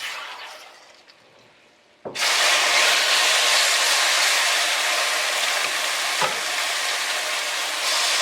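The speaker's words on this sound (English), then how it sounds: "you can start adding the seasoned beef, marinade and everything, that is fine, to the pot now." Seasoned beef with its marinade dropped into a hot pot for Caribbean wet beef pelau, a sudden loud burst of sizzling that holds steady and close, with a brief stirring scrape midway.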